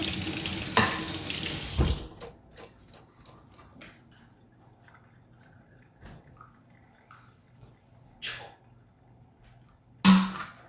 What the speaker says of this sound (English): make sure you're washing your hands so that you don't transfer it into the ingredients